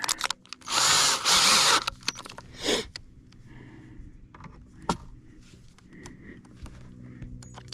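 Two loud bursts of power-drill whirring up close with a 5/16-inch bit during a kayak bow-mount installation, then a shorter buzz, followed by scattered clicks and handling noises.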